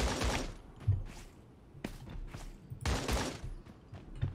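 Gunfire in the shooting game Creative Destruction, several quick bursts of shots at low level, with gaps between volleys and a sharp single report in the middle.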